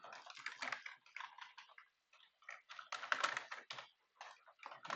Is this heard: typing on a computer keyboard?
yes